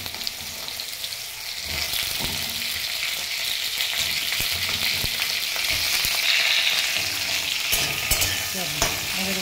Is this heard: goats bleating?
no